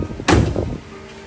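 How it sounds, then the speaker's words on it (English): The passenger door of an Alfa Romeo GTV shuts with a single close, solid clunk, followed by a brief fading rattle and quiet room tone. "Now we have a door with a very distinctive clunk, proper sound."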